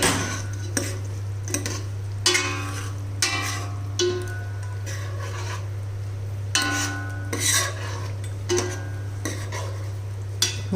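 Thick curd being stirred into mutton curry in a pot, with repeated rasping scrapes and clinks of a spoon against the vessel in an uneven rhythm over a steady low hum, close and clear with no voices.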